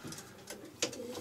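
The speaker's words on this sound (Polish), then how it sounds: "Tutaj mamy z bliska pokazanego jednego gołąbka." Pigeons in a racing-pigeon breeding loft give soft, quiet coos, with a brief louder flutter or call near the middle of the short stretch.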